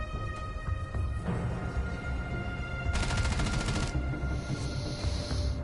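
Gunfire in the video game Rainbow Six Siege, a steady loud clatter of rapid shots over game noise, with a sharper burst partway through.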